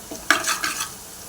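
Spoon stirring turmeric into a pan of poha, a few quick scraping strokes against the pan, close and brief, with no talking.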